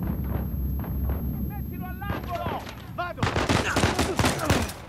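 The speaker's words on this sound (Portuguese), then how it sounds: "Eita porra, tô tomando tiro de um monte de lugar." Repeated gunshots and bursts of gunfire from the video game Uncharted 4, loud and dense across the whole stretch, with a voice briefly heard amid the shooting.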